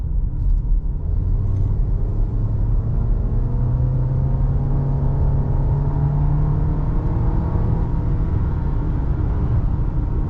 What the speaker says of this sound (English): At this point, we'll get out of 25 and see how good it accelerates.